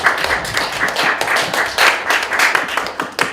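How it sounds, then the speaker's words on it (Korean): Seminar attendees applaud a presenter in a hall, a fairly loud, close round of clapping with distinct individual hand claps pulsing unevenly across a few seconds. "예, 다시 한번 큰 박수 부탁드립니다."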